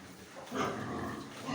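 Faint, low grunts and snuffling from pigs in a noisy farm pen, rising briefly in the middle and trailing off.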